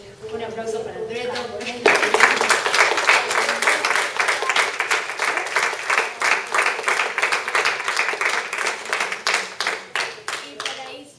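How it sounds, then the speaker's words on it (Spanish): An audience at a congress talk on reading picture books in school breaks into applause: after a moment of a speaker's voice, dense clapping starts abruptly and continues loudly for several seconds before thinning into scattered claps. "Un aplauso para Andreto."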